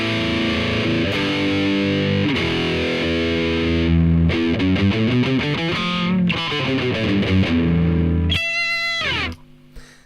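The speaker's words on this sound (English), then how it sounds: "let's give you some nice dry guitar. No reverb, no delay, just a crap ton of gain." Dry high-gain electric guitar with no reverb or delay, heavily distorted chords and riffs ringing loud and continuous, ending in a sharp high squeal before cutting off.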